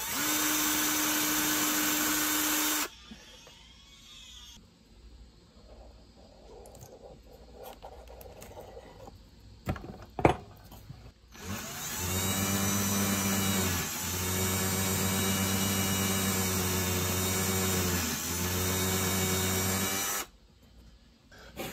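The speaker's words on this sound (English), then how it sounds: "let me get these holes drilled first" A drill bores holes in a quartz slab for a paper towel holder, running in long steady high-pitched whines with pitch dips as the bit bites, separated by a quieter gap with a sharp knock.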